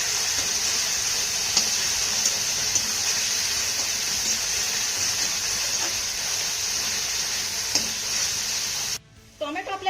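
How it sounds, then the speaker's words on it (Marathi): Chopped tomato and onion sautéing in a pan, giving a steady close sizzle with occasional stirring scrapes throughout, ending abruptly near the end; no talking. "आता हा देखील आपल्याला छान असा मौसूत होईपर्यंत परतून घ्यायचा आहे"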